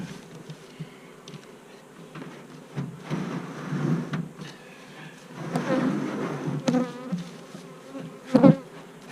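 Honey bees buzz in a steady, close swarm around an open nuc hive while it is being set up for a queen cell, with soft knocks of wooden hive parts and a louder burst near the end.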